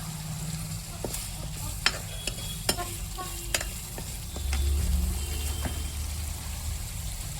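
Curry leaves dropped into hot oil, giving a steady sizzle with a few sharp pops and clinks of stirring, plus a brief louder burst of frying midway.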